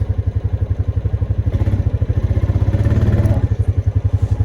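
Viper Elite winch mounted on a Honda Rancher ATV pulling a fallen log up a bank: a steady, rhythmic mechanical drone with a fast pulsing clatter, loud and close, without talk.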